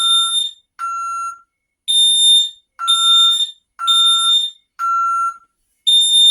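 An ADT SafeWatch Pro 3000 fire alarm sounds its temporal 3 pattern: loud, piercing electronic tones in groups of three, each group split by a short silence, close and alone.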